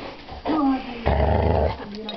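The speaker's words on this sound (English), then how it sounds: "look at this dog. It's attacking me." A dog growls in two short, close bursts, a low rumbling snarl, with a brief quieter whine between.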